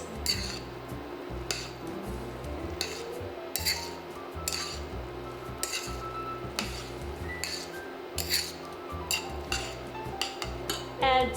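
Orzo and peas are stirred together in a pan, a spoon clinking and scraping repeatedly in a steady rhythm, close and fairly quiet, with no talking.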